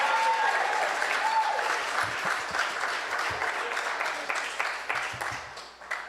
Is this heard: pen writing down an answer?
no